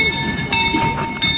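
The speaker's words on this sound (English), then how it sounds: "and our train is back." A train pulls back in at the Pioneer Tunnel coal mine with steady rolling rumble, faint clanking and a high steady tone, close and continuous for a moment.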